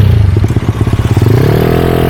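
A Yamaha Mio 160cc motorcycle during wheelie training revs loudly up close, its engine pulsing in rapid, throbbing bursts that smooth into a steadier drone.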